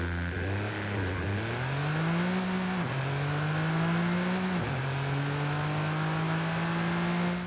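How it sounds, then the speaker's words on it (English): Toyota GR Yaris in Forza Horizon 5 revving its small engine, the pitch climbing and dropping in three steady surges, loud and close with no talk. "now let's go ahead and take ourselves a listen to this tiny little machine."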